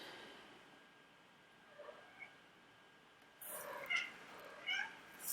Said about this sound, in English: That's my kitten in the background.